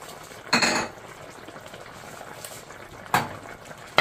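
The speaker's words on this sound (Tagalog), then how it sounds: "Mix lang natin" A spoon stirring chicken adobo in a pot, with soft bubbling between three sharp metallic clinks and scrapes against the pot.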